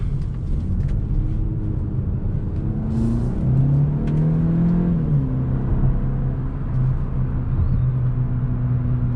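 A 2021 Hyundai Elantra N Line's 1.6-liter turbocharged four-cylinder accelerates in sport mode, a steady loud rumble from inside the cabin with engine tones that rise and shift through gears, no talk.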